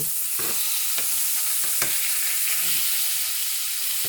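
Pork tenderloin fries in a pan, giving a steady broadband sizzle with several sharp stirring clacks and scrapes spread through it, close and fairly loud, with no talk.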